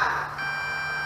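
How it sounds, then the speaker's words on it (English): A steady electronic tone holds almost unbroken, a thin high-pitched low-battery warning beep from an MJX Bugs 3 drone with an old, weak battery, sounding alone at moderate level. "She's beeping. That battery is old and weak."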